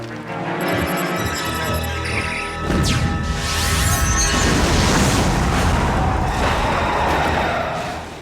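A loud, booming explosion in a film erupts after a short musical tone sequence, followed by a long rumbling roar of debris and fire that slowly fades.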